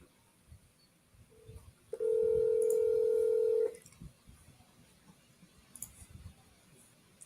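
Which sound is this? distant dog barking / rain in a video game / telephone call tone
telephone call tone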